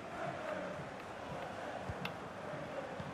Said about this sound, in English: The crowd's making more noise than we thought.